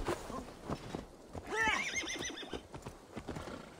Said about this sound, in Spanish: Vamos a pillar un caballo, ¿no?